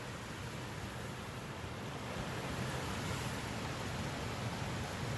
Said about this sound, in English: And the wind's kind of coming right at me too.